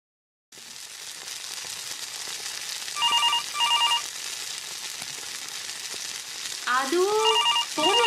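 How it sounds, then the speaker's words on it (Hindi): A telephone rings in short double bursts over steady sizzling background noise, then an electronic ringtone melody starts near the end. "फोन उठा प्लीज"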